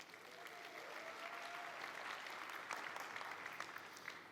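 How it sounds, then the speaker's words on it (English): A conference audience at a startup and venture capital panel gives steady, even applause for an award-winning entrepreneur, a continuous wash of clapping heard at moderate distance with a brief voice near the start. "Round of applause."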